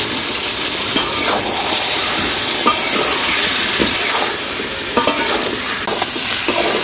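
Boiled jackfruit fries in a pan with turmeric, chilli and coriander powder, giving a dense, loud, steady sizzle broken by spoon-on-pan scrapes and clinks, with no talking.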